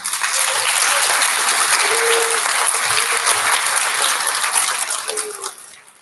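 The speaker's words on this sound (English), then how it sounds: "one more big round of applause for our fourth graders" Sustained audience applause at a Palmer Elementary student recognition ceremony for fourth graders, dense steady clapping filling the room for about five seconds before tapering off.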